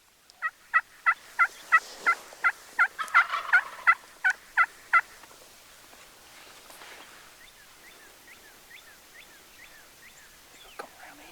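Wild turkey gobbling in the field, a rapid run of about a dozen loud, evenly spaced gobble notes over the first five seconds, then fading to softer, more distant calls against a quiet outdoor background.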